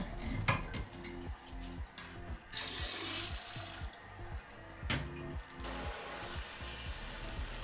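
Water runs steadily from a handheld bidet sprayer at a toilet, a constant hiss and splash with a few brief interruptions and pressure changes, close by with no talking.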